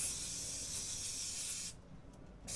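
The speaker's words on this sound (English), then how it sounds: "Spray some brake cleaner there to clean the traces of oil" A steady spray hiss from an aerosol can of brake cleaner, cleaning oil traces on a petrol Nissan Qashqai J10, runs for most of the clip, stops briefly, then resumes near the end.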